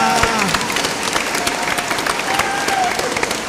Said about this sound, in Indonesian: Tepuk tangan untuk kur.